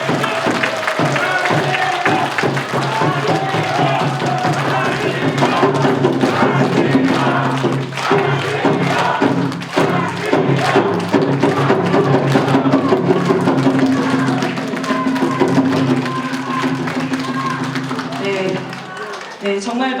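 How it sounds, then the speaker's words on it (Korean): Dense, steady crowd noise with clapping and cheering fills the hall at a political rally and book launch for a party leadership bid, rising and holding loud for about twenty seconds, with voices mixed through the roar. "정말 많은 분들의 응원과 박수에 가슴이 뜨거워집니다"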